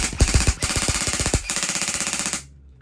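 Lancer Tactical G2 airsoft gun firing on full auto, a fast, steady mechanical rattle of shots in bursts lasting about two and a half seconds, close and loud, then cutting off.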